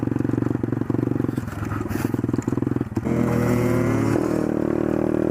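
A small pit bike rides over bumpy ground, its engine chattering in rapid pulses with clattering bumps, then surging into a steadier, louder revving drone partway through.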